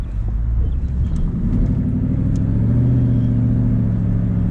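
A loud, steady 2019 Dodge Charger R/T engine with the mid-muffler deleted drones up close, its pitch climbing slightly as it revs, a continuous mechanical roar with no voices.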